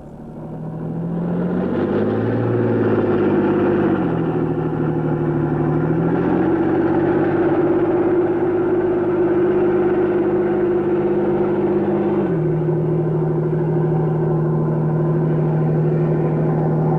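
The engine of a Swedish S-Tank battle tank runs with a loud, steady droning rumble, its pitch shifting a few times as it revs and settles, continuous and close throughout.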